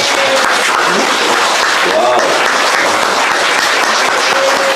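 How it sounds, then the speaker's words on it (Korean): Applause from a seminar audience, a dense, loud, sustained wash of clapping that fills the whole stretch, with a voice briefly exclaiming over it. "정말 우리 아버지께 감사의 박수 드립니다"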